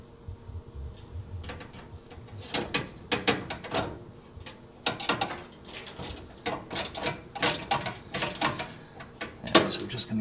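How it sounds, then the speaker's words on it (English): Screws being driven by hand into the thin sheet-metal panel of a GE dryer during a natural gas to propane conversion, heard as a run of close, uneven ratcheting clicks and metallic scrapes in bursts, with no talking. "we're just going to get a couple threads started"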